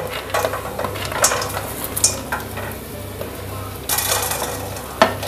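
Fox nuts (makhana) go into hot ghee in a kadhai, giving a busy sizzle with a spoon scraping and clattering against the metal, a louder rush of frying near the end and a sharp clink, close by.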